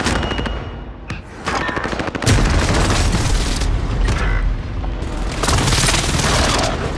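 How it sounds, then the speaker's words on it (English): Precision airstrike in Call of Duty: Modern Warfare, a run of heavy booming explosions with rumbling blasts and scattered gunfire, loud and continuous across the whole stretch. "Precision airstrike."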